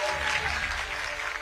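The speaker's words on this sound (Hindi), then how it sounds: "पंडित धीरेन्द्र शास्त्री जी का जोरदार तालियों से स्वागत।" Faint, distant applause from a studio audience welcoming Pandit Dhirendra Shastri at a TV network event, a continuous wash of clapping.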